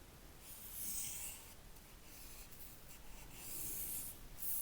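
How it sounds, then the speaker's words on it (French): A pencil rubs and scratches steadily across dress pattern paper as an armhole curve is redrawn, a soft close-up scraping with slight swells in intensity and no talk. "Je diminue 1 cm et je retrace encore mon emmanchure."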